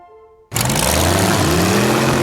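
A race car engine from the animated film Cars 3 bursts in after a quiet tonal lead-in and roars loudly at high revs, holding a sustained throaty howl with rising pitch until the end.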